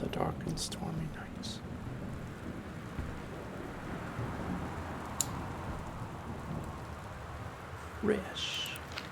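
Steady rain pours through a dark, stormy night in the video game Gone Home, with a constant low wash of rainfall, faint rumbles beneath and a few brief clicks and thuds near the start and end.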